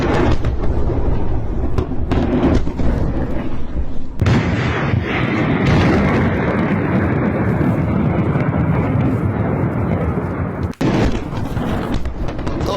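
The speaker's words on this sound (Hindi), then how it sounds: "धमाके की आवाज भी लगातार वहां से सुनाई दे रही है। सुनिए आप।" Explosions from an Israeli strike on Latakia port in Syria, heard as a dense, continuous roar of heavy rumbling blasts that stays loud throughout, with one brief dip near the end and no talk.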